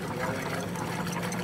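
Water poured into an ice cream maker, a steady, close rushing splash that fills the whole moment without pause and no talking.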